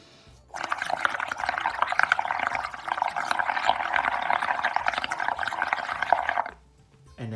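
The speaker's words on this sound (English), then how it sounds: "you're just gonna start blowing using your straw. So just simply blow." Air is blown through a straw into a cup of acrylic paint mixed with soap, making a continuous close bubbling, gurgling rush for about six seconds that stops abruptly, with no voices.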